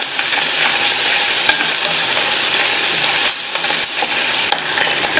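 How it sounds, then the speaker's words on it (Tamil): Onions, lentils, and dried and slit green chillies sauté on a medium flame for chutney, with a loud, continuous sizzle and frequent stirring scrapes in the pan. "மிதமான தீயில வச்சு எல்லாத்தையும் நல்லா வதக்கிக்கலாம்"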